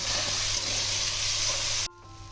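Pointed gourd korma filling made with a ground paste including poppy seed and green chilli sizzles steadily in a pan, a loud continuous hiss that cuts off abruptly near the end, with no talk.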